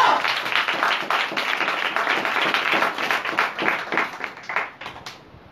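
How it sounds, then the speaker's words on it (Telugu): Audience at a Telugu religious sermon claps steadily for about five seconds, dense overlapping hand claps at close-to-mid distance with no speech over them, thinning out toward the end. "చప్పట్లు కొట్టాలా?"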